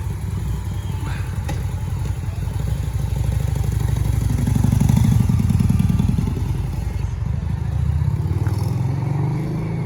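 A Harley-Davidson V-Rod with slash-cut exhaust mufflers idles with a steady, throbbing rumble that swells slightly as it is blipped, fairly close and moderate in volume, with no talk.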